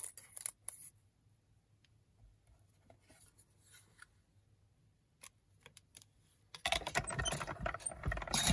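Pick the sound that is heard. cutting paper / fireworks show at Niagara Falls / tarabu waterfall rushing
cutting paper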